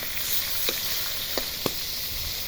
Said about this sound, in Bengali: এই যে প্রথমে মাছগুলো, বড় মাছ ভেজে নিচ্ছে